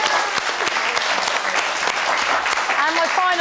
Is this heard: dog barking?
no